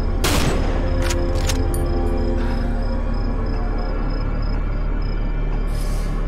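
A sniper rifle fires in the horror video game Cry of Fear: one loud, close blast opens the clip, a couple of smaller reports follow, then a long ringing tail under steady ambient noise.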